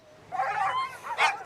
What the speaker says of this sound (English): Most of the dogs in the pack are so-called Greenland Huskies